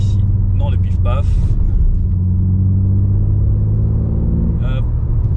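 A car on a wet race circuit, a steady loud engine rumble from on board as it brakes hard and drives on, with brief tonal squeals and someone talking over it.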